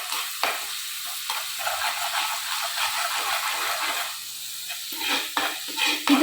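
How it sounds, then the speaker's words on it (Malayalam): Curry leaves and onions sauté in a pan for an Alleppey-style red snapper fish head curry, giving a steady, moderately loud sizzle with repeated spatula scrapes and stirring clatter. No voices are heard. "കറിവേപ്പില, ഉള്ളി എല്ലാം വഴന്ന് വന്നിട്ടുണ്ട്."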